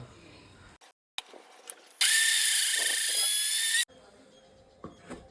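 A kitchen mixer grinder whirs loudly and steadily for about two seconds as it grinds coconut chutney for idli, with quieter handling sounds before and after.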